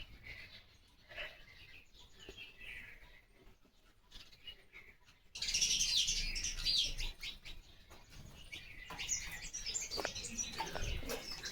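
House sparrows chirping in a home courtyard, scattered quiet tweets at first, then a burst of dense, busy chirping from several birds close by that continues to the end.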